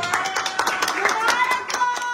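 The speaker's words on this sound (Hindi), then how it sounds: "हम सारी तालियां बजाएं।" Hands clap together at a one-million-subscriber celebration in a village, with quick, fairly close claps running throughout as voices talk over them.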